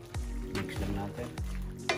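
Chicken and mixed vegetables with mushrooms being stirred in a hot pan, a steady sizzle broken by repeated scraping strokes of a utensil, close and fairly loud, with no talk.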